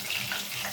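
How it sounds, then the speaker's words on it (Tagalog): Water pours steadily into a cooking pan while sweet and sour fresh fish is being made, a close, continuous splashing rush with no talking. "butang na dito tubig"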